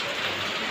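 Rain falls in a steady, dense hiss for under a second, close and even, with no voices over it.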